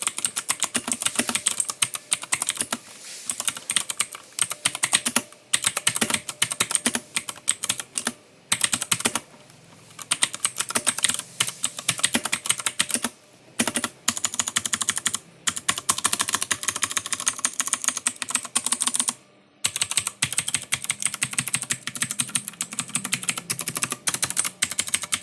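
Steady, continuous typing on a Koodo Cavalier compact computer keyboard, brisk clattering keystrokes close up with a few short pauses, no voices.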